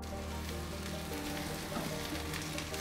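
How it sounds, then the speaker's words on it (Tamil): Agathi greens sauté in oil with onion, garlic and green chili, giving an even, continuous sizzle like light rain, close and moderately quiet, with no one talking. "இந்த எண்ணெயிலே நம்ம எடுத்து வச்சுருக்க அகத்தி கீரை சேர்த்துட்றேன்"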